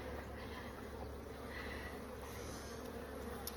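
Bees hum in a steady, dense drone throughout a first inspection of a new backyard hive, close and constant with no breaks.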